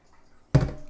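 Water splashes into a pot while making an apple macchiato syrup, a sudden close burst of pouring liquid after a quiet moment, continuing briefly and alone.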